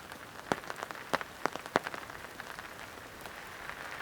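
Heavy rain falls on a two-person tent at a flat camping spot, with steady patter and sharp irregular drops tapping close on the fabric, faint overall and without talk.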